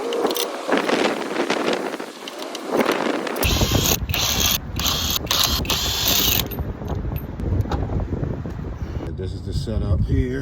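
A ratchet wrench cranks on the wheel bolts of a Lexus during a rear brake job, loud rapid clicking and clattering bursts up close, with a sharp change in tone partway through as the bolts break loose.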